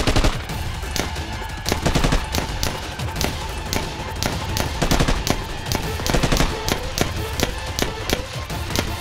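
Gunfire in a TV army drama, dense bursts of rapid automatic shots and single cracks over about nine seconds, loud and close with a low rumble underneath.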